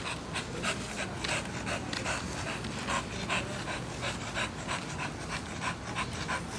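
A dog named Biggie pants steadily and close up, with quick rhythmic breaths that continue throughout and no other sounds competing.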